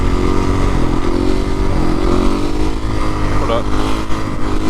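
A rebuilt Suzuki RM-Z450 supermoto engine revs and pulls on a ride, a loud close engine roar with shifting pitch and clatter, wind noise, and someone talking over it.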